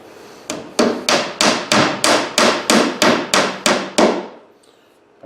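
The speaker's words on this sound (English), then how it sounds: "Pound it down, and there it is." About eleven sharp, evenly spaced hammer blows drive a glued wooden dowel into an old screw hole in a pine counter, each strike a loud close knock, then handling noise.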